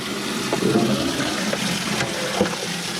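Water sloshing and splashing as a Marineland Penguin 350 bio-wheel aquarium filter is rinsed, a continuous rushing wash with a few sharper knocks and splashes, fairly loud and close, with no talk.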